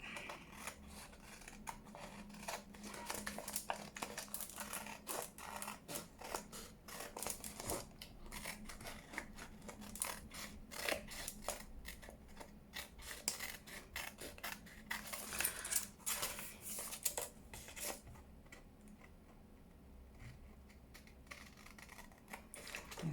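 Scissors snip around paper while an altered-file junk journal in lilac and lavender is assembled, giving a steady run of close, crisp cuts with light paper crinkling and no talk.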